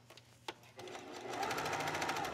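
A sewing machine stitching the neckline of a little black dress starts after a couple of soft clicks and runs into a fast, steady, close mechanical whirr.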